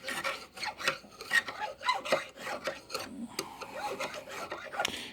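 A metal file worked over guitar frets in a fret-crowning demonstration, pressed firmly in short back-and-forth strokes, giving a close, rhythmic rasping scrape that repeats steadily throughout.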